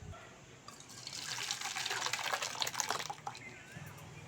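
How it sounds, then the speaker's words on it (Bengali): Oil poured into a pan for tempering dal, a steady liquid pour lasting a couple of seconds at moderate level, tapering off into faint drips and kitchen background. "প্রথমে দিয়ে দেবো তেল"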